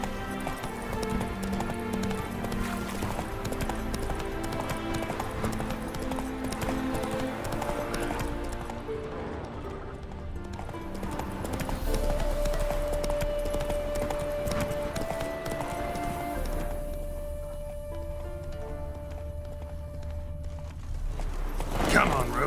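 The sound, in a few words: horse Roach galloping in video game Witcher 3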